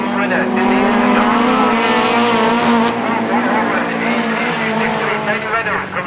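Autograss race cars roar past at close range near the finish line with sustained, loud engine drone, while a commentator talks over the noise throughout.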